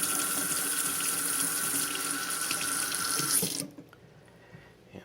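Tap water runs steadily into a sink as the top of a carpet-cleaner cap is rinsed, a close, loud splashing hiss that cuts off abruptly near the end, leaving near silence.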